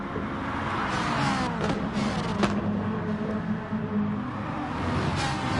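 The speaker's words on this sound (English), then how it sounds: "spatial sound design of when watching the cars go by from the outside, all that stuff, it's very well made here in GT Sport" GT Sport race cars passing by during a racing championship round, a steady, moderately faint engine whine and road noise with cars sweeping past in the mix.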